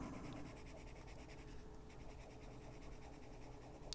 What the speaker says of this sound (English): I know it sounds like it's scratchy, but it's an oil-based pencil.